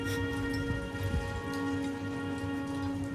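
Heavy rain falls in a dense, steady hiss with scattered drops spattering on a surface, continuous and fairly close, and a faint steady hum beneath.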